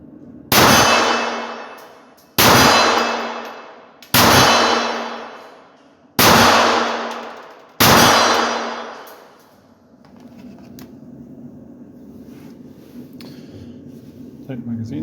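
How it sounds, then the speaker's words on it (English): Five sharp shots from a Sako semi-automatic target pistol chambered in .22lr, each a loud crack with a ringing decay, spaced about two seconds apart, followed by quiet handling and soft room noise. "So let's fire 5 rounds."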